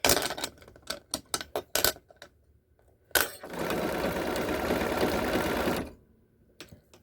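Sewing machine stitching a crossbody bag: a series of short, sharp stitching bursts for the first two seconds, then a brief pause and a steady, loud run of continuous machine stitching lasting nearly three seconds before stopping.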